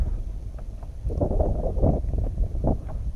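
Cold wind blowing across the water around a kayak, a steady low rushing buffet on the microphone with soft gusting swells and faint splashing, no talk.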